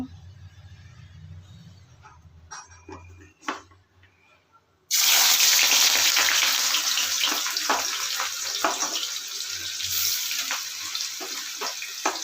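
Sliced onions hit hot mustard oil in a pan for beresta: after a few seconds of quiet, faint handling, a sudden loud, steady hiss of frying takes over and continues to the end, close and with no talking.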